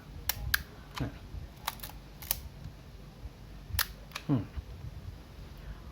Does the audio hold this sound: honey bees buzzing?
no